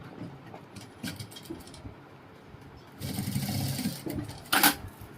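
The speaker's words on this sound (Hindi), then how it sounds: "इसको उल्टी साइड से इसके ऊपर सिलाई लगाएंगे।" Sewing machine stitching lace onto the reverse side of a princess-cut blouse, a steady mechanical whir that swells loud from about three seconds in and ends in a short sharp burst, quieter fabric handling before it.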